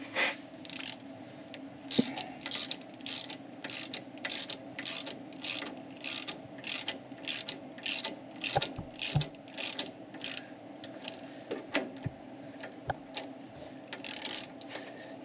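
Ratchet wrench tightening bolts during suspension work on a Chevrolet Monte Carlo: steady rapid clicking strokes in a regular rhythm, close and fairly quiet, with occasional metallic knocks.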